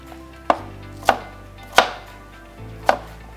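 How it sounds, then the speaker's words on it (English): A knife chops a cucumber into small chunks on a board, four crisp, separate thuds at uneven intervals, close and clear with no talking. "You can cut into half and then make small slices and then convert into chunks."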